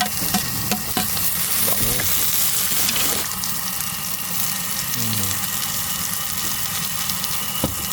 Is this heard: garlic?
yes